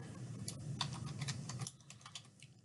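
Quick bursts of typing on a computer keyboard, close and quiet, with a rapid run of key clicks that thins out toward the end.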